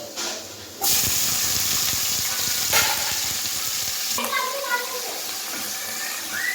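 Vegetables drop into hot oil with browned garlic for fried rice, setting off a loud, steady sizzle and hiss with stirring scrapes, close by, and a voice speaking briefly over it.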